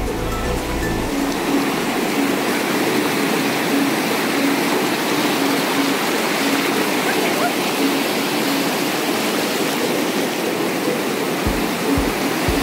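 Strong sea waves crash and wash continuously onto a beach in Goa, a loud steady roar of surf filling the whole stretch, with a brief low thump near the end.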